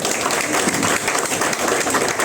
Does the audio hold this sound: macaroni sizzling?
no